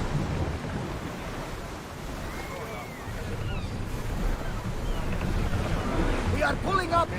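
A ship sails at full speed across the open sea in Assassin's Creed Odyssey, with a constant roar of rushing water and wind, steady and loud, and faint voices calling out near the end.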